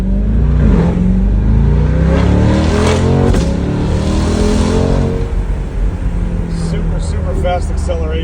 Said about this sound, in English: Super fast acceleration.